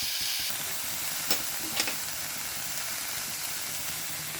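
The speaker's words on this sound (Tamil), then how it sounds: "கேரட், கேபேஜ் நல்லா வதக்கிக்கலாம்." Carrot and cabbage sautéing in a pan give a soft, steady sizzle and hiss with a couple of brief stirring scrapes, close and quiet, with no voices.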